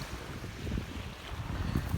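Wind gusts over Pyramid Lake in Jasper, a steady rough rumble buffeting the microphone, with the wash of waves beneath it and no voices.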